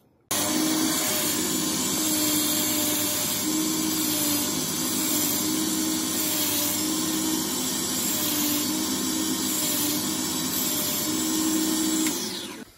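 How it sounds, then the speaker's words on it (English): Saw cutting notches in fused glass, a loud steady motor whine with a faint rhythmic grinding pulse, running nonstop for about twelve seconds before cutting off. "If you've got though any kind of saw, you can make these little notches"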